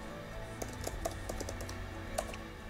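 Someone types on a computer keyboard, with quiet irregular key clicks over a low background hum and no voices.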